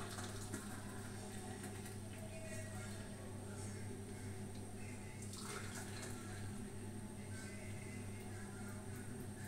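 Brewed tea strained through a strainer on a kitchen gas stove, a faint, steady wash of pouring liquid that runs evenly throughout over a low background hum.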